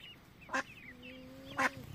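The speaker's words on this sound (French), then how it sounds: "Donc là, vous avez ma canne noire et blanche" A black and white female duck gives two short, sharp quacks about a second apart, faint and close by against quiet background chatter.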